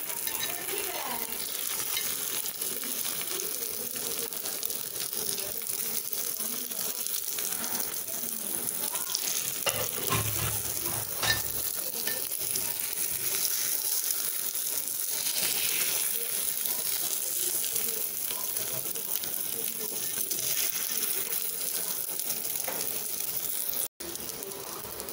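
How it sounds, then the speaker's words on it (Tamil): Egg kuzhi paniyaram batter fries in the wells of a paniyaram pan, giving a continuous close sizzle with occasional scraping and turning noises and a brief clunk near the end, with no speech. "இப்போ அடுத்த பக்கம் திருப்பி போட்டுக்கலாம்."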